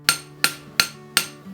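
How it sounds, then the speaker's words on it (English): A blacksmith hammers a metal ring at the anvil during finishing work, four sharp ringing strikes evenly spaced about a third of a second apart, close and clear with no talk. "it also gives me a great place to do some finish hammering on the piece of metal"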